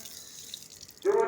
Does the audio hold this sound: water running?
yes